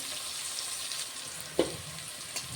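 Salted carrot pieces fry softly in a pan, a faint steady sizzle with one brief clink partway through.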